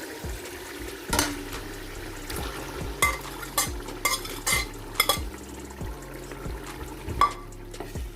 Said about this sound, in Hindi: अब हम इसके अंदर चिकन को ऐड कर देंगे।